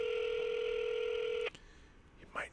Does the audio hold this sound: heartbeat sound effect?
no